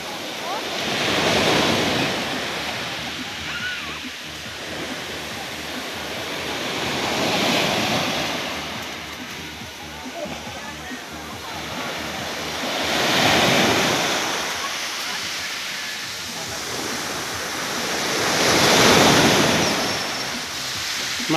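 Ocean waves surge onto a beach at Libertad, Davao del Norte, building into broad roaring swells about every five seconds, with steady wind buffeting the microphone between breakers.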